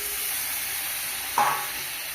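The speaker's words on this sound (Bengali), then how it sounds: "ম্যারিনেট করা চিকেন দিয়ে দেবো।" Marinated chicken dropped into a pan of tomato and spice masala, giving a steady bright sizzle with a brief louder burst as the meat hits the hot oil, close and continuous, no voices.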